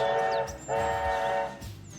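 A model train whistle blows two sustained, harmonic blasts, cut by a short gap, with a faint rumble beneath and a fainter toot at the end.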